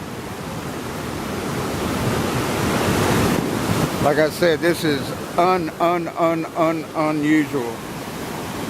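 Flood water of Tunnel Brook rushes beneath a bridge as a constant loud roar, with someone talking over it in the second half.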